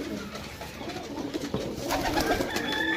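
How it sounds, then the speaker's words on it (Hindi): Sialkoti pigeons coo in a loft, giving soft, throaty, repeated calls at close range. A low, steady background hum runs underneath, with no talking. "सियालकोटी कबूतर माशाल्लाह चीज़ चेक करो"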